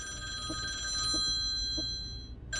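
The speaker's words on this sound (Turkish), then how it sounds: "Bu arada telefon çalıyor." A telephone in a horror video game rings with steady electronic tones, held for a couple of seconds over a low background hum, then briefly cuts out and resumes.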